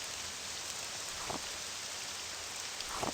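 A heavy downpour in the video game Morrowind, a dense, steady hiss of rain with a couple of brief louder bursts, heard alone without speech.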